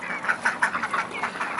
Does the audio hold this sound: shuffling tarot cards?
no